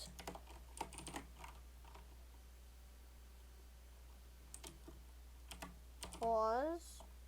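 Python code being typed on a computer keyboard: nearby key clicks come in quick bursts separated by pauses, and a short tonal chirp sounds near the end.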